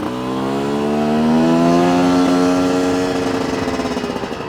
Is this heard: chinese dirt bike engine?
yes